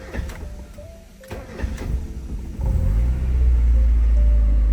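A Mazda Miata engine with newly replaced injectors rises from a rough, rumbling idle into a loud, steady higher-RPM drone that holds to the end.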